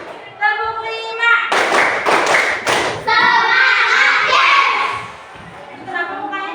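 Children in a classroom clap in rhythm, a quick run of sharp claps followed by a sustained stretch of clapping mixed with voices, while an adult speaks before and after.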